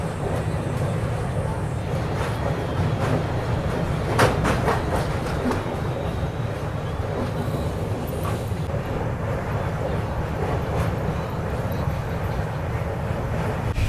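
The Himsagar Express passenger train running on its rails, a continuous loud rumbling roar with faint rhythmic clatter from the wheels, heard from inside the moving train.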